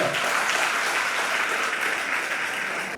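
Dense, steady applause from a college audience at a Vinayagar Chaturthi special debate event fills the room, loud and continuous for a few seconds before cutting off.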